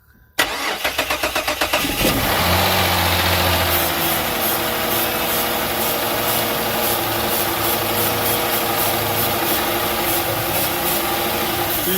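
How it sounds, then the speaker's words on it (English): A car with a failing fuel pump and no pressure cranks briefly with a rapid rhythmic whirr, then catches and runs at a steady, loud, close idle. "All right, spin it over."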